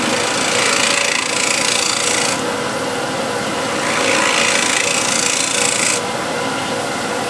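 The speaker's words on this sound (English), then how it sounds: "grab this big scraper. I'll use it as the shear scraper," A large scraper tilted on its side as a shear scraper, rasping across a spinning wooden live-edge bowl on a lathe; loud, continuous and close, with the scraping swelling and easing in two long passes.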